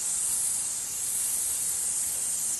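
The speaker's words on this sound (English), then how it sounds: "like the other spray nozzles, I can control the flow" A rotating irrigation spray nozzle in a garden watering system shoots water up high, giving a steady, close hiss of spray that holds evenly throughout.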